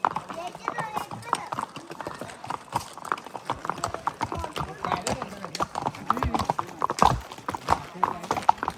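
Horse hooves clip-clop in a quick, uneven rhythm nearby while people talk over them, with a brief whinny-like burst partway through.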